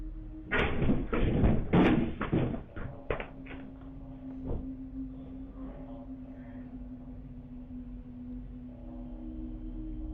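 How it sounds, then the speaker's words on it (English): A horse crashes through a barn door, giving a burst of loud, close banging and thumping impacts that quickly fades to a quieter background with a steady low hum. "One horse abruptly rams through a door and bolts down the aisle."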